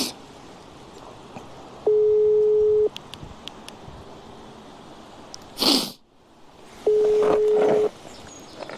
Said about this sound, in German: So, ich rufe jetzt Carsten an